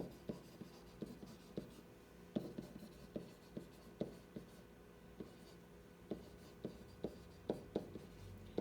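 Pencil writing on paper while an inequality is worked out, a quiet series of scratchy strokes and taps in an irregular rhythm, close and faint.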